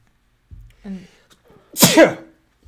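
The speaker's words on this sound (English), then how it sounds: "I'm going to sneeze." A sharp, close sneeze bursts out after a brief, quiet breathy wind-up.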